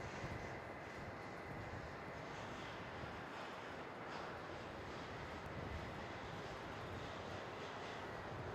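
Qantas airliner arriving from Brisbane and landing at Melbourne Airport, a faint distant engine rumble and hiss steady throughout, with no talk.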